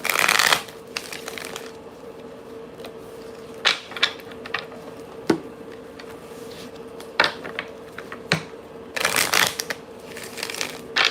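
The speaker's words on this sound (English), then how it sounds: "Let me give it one more ruffle shuffle." Repeated riffle shuffles of playing cards, crisp fluttering bursts recurring every second or two, close and clear against a quiet room hum.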